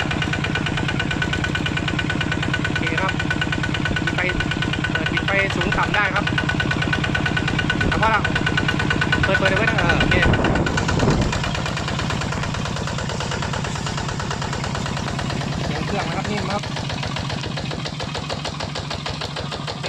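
A Kubota ZT155 DI Plus single-cylinder diesel engine runs steadily and close for the whole stretch, with a rapid, even knocking thump, a brief louder surge midway, and someone talking over it at times.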